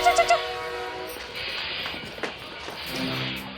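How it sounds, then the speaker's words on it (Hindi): A train pulling out of a station, with a short horn toots at the start followed by a rumbling, hissing rail noise and faint clatter that carries on steadily, moderately close, with no talk over it. "यार ट्रेन चल गई।"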